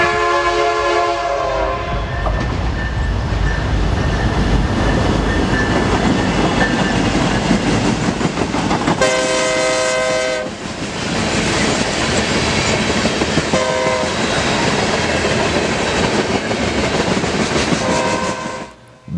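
A Santa Fe B40-8W diesel locomotive approaches and passes with a loud, continuous roar and rumble of rail cars, and a horn sounds partway through.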